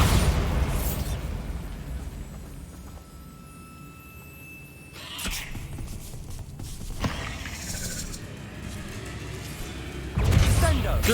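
Bombarda explosion spell cast in the video game Hogwarts Legacy, producing several loud booming blasts spaced a few seconds apart over a rumbling game soundscape.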